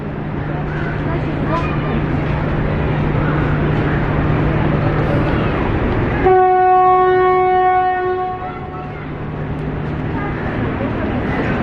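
A train rumbles at Golra Railway Station in Islamabad, Pakistan, then a loud horn blast sounds, fading after a couple of seconds as the rumble continues.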